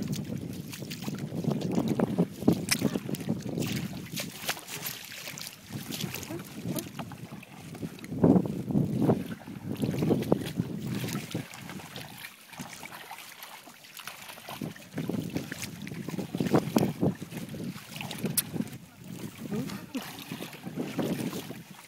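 A small boat moving on water, with wind buffeting the microphone and water sloshing. A brief lull comes midway, then steady motion resumes.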